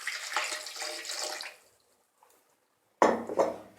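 Water poured into a jug of whole lemons while making lemon juice, a short splashing pour that stops, followed after a pause by a brief second burst of pouring.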